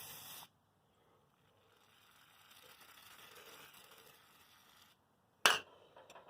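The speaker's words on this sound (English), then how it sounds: "take some WD-40 and just spray it all around on there" WD-40 sprayed onto a Honda Harmony HRM215 lawn mower carburetor: a soft, steady aerosol hiss lasting several seconds, close and fairly quiet, followed by a sharp metallic clink of the part being handled.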